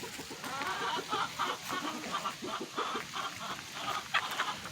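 Farm chickens cluck in a steady, busy chatter, many overlapping calls and short bursts spread over a few seconds, moderately close and fairly quiet, with no talking.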